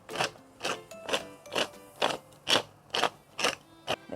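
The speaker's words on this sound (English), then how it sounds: "Before that, grate the black pepper." Black pepper is ground in a hand mill for a sweet and sour prawn dish, giving nine evenly spaced, crunchy ratcheting grinds in a steady rhythm, close and clear with nothing else heard.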